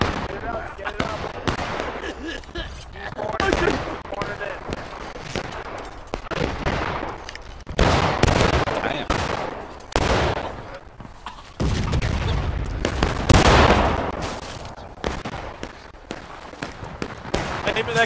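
Musket volleys and scattered rifle shots crackle through a War of Rights battle, bursts of gunfire coming in uneven clusters at mid distance, with voices calling out between and over the shooting.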